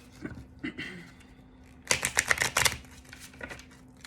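Tarot cards being pulled from a deck and laid down, a few soft faint shuffles followed by a quick burst of crisp snapping card flicks, then light handling sounds in a quiet room.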